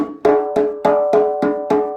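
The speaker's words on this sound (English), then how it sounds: "the last drum we're gonna look at today is the djembe" A djembe set flat on the ground is struck in an even sequence of seven close, resonant hits, each with a sharp attack and a ringing, pitched decay that carries into the next stroke.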